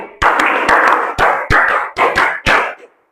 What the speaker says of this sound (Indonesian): mari kita tepuk tangan dulu biar tambah semangat ya